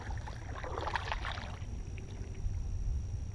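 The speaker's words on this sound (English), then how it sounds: "you got to be ready to do a little workout when you're using a paddle instead of a gas motor" A kayak paddle dips into calm water, giving a soft splash and swirl early on over a faint, steady background of wind and water.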